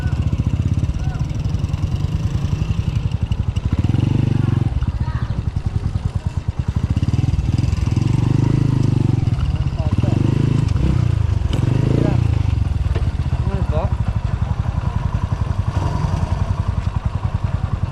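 A motorcycle engine idles and revs steadily nearby, a low rumbling drone under people talking throughout.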